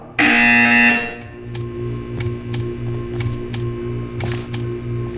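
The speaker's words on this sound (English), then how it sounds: "You will hear a buzzer." A loud, harsh electronic buzzer from the video game Portal 2 sounds for about a second, followed by a quieter background of rhythmic ticking and hum.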